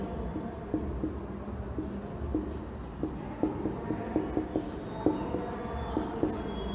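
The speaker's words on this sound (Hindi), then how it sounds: "पूरा ही लिख देता हूँ डिटेल से" Marker or chalk writing on a board during an abstract algebra lecture, heard as a steady run of short scratchy strokes and taps, fairly close, over a low room hum with no talking.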